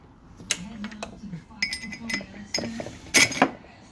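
Metal bolts clink and tap as they are fitted into an intake throttle valve on a Freightliner Cascadia DD-series diesel engine, a series of sharp, close metallic knocks with quiet talk in between.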